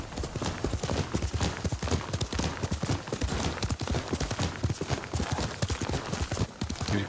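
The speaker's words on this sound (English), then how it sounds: "Yuriko's horse." A horse's hooves clip-clop in a rapid, steady rhythm, close and continuous throughout, with a brief whinny-like sound mixed in.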